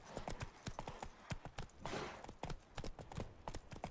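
Horse hooves galloping in The Witcher 3 video game, a fast, rhythmic clip-clop of many sharp close hoofbeats, with a brief whooshing rush midway and no talk.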